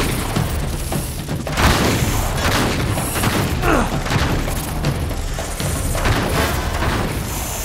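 Gunfire and explosions from the action video game Uncharted 3, with loud dense booms and crackling shots rolling continuously through the whole stretch, close and heavy.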